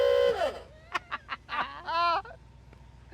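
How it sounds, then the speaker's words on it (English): Horn of a 1957 Chevy Bel Air in a driveway, sounding a wavering, goose-like honk followed by a quick series of short blasts and one longer toot, loud and close. "honk the horn."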